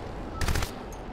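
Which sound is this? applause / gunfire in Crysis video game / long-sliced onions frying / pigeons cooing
gunfire in Crysis video game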